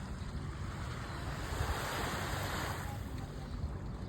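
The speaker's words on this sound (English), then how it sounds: "The sea actually is lovely down here." Sea waves wash onto a stone-free beach at Sharm El Sheikh, a steady broadband rush of surf with gentle swells and light wind buffeting the microphone, close and continuous, no voices.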